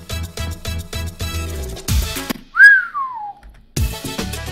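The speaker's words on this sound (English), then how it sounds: "Throwing some Mario Kart style whistles" Mario Kart style whistle sample in a DJ remix, a single rising then falling slide whistle tone in a gap between beat-heavy music loops.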